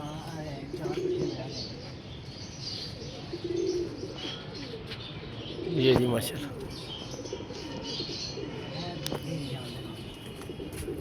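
Four pigeons face one another and give low, soft, repeated coos at moderate distance, heard beneath someone talking throughout.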